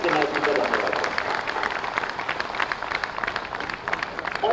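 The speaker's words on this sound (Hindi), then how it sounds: "तो हम तालियों की गड़गड़ाहट से योगी आदित्यनाथ जी का धन्यवाद।" An audience at a flight inauguration ceremony for Chief Minister Yogi Adityanath in Lucknow breaks into a dense burst of applause that fills the room, easing slightly toward the end under some crowd murmur.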